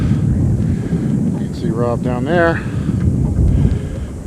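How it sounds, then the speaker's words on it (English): Gusty wind buffets the microphone atop a steep rocky cliff formation in the Valley of Fire desert, a loud low rumble that swells and eases beneath someone talking. "Sorry about the wind."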